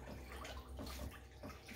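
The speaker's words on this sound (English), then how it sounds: "I'm just going to take my leaf and kind of dip it in the water and squish it all around." A basil leaf is dipped and swished around in a bowl of water, making soft, close sloshing and splashing sounds that come in a few gentle pulses, quiet and without talking.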